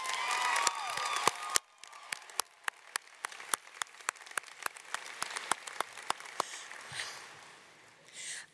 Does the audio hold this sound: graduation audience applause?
yes